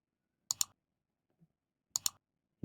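A computer keyboard's Enter key is pressed in quick paired clicks, two close double taps about a second and a half apart, crisp and near in an otherwise silent room.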